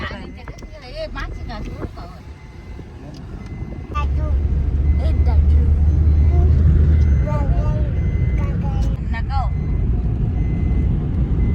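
A car travels along a road with a steady engine and road rumble that grows louder and heavier partway through, while people talk over it throughout.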